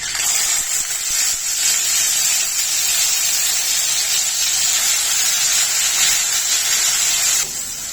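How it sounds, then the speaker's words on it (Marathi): Ground chole masala paste frying in hot oil for a Marathi-style chole dish made without onion or garlic; a steady, loud sizzling hiss runs unbroken throughout and dips slightly just before the end. "वाटून घेतलेला मसाला तेलामध्ये दोन ते तीन मिनिटं चांगलं परतून घ्यायचा आहे"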